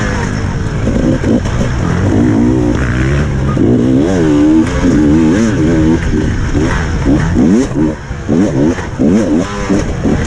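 An enduro motorcycle races through woodland at Hawkstone Park in a WESS 2019 main race, engine loud and close, revving up and down as it hops over rough bumps and braking holes, with a voice faintly underneath.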